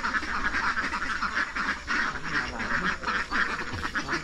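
Domestic ducks quacking continuously and close by, a dense overlapping chorus of raspy calls from a flock.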